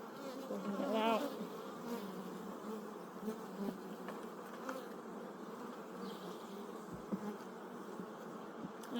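Honeybees from a strong, busy hive swarm around the open box during a frame inspection, a dense continuous buzz with individual bees droning louder as they pass near.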